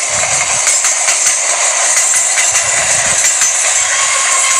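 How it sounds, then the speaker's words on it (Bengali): A train passing through Bidhannagar railway station in Kolkata, a loud continuous rushing roar with hiss, steady throughout and without talk. "দাঁড়াও, ট্রেনটা যাক, চলে গেছে।"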